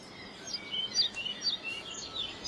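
Pied flycatcher song in Welsh woodland: faint, distant high chirping phrases repeated through the clip over quiet background, no voices.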